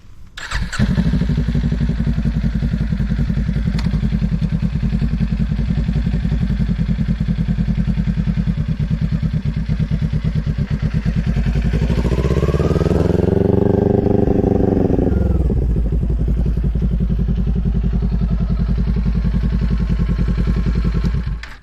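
Motorcycle engine idles steadily up close, then the throttle is rolled on and the bike pulls away in first gear, revving up in a rising whine before easing back to a steady low rumble.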